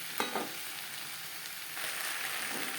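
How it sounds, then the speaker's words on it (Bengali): Vegetables with grated coconut, cauliflower stalks for a vegetarian chochori, stirred in a hot pan: a quiet, steady sizzle with a couple of light spatula scrapes near the start and a slightly stronger hiss toward the end. "সবজির সাথে নারকেল কোড়া বেশ ভালো করে মিক্স করে দেবো"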